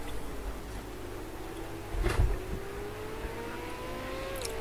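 Ford V8 Supercars racing on a circuit during a round-one race day, several engines droning steadily at a moderate distance, with a louder swell as a car passes about midway and a faint rising engine tone near the end.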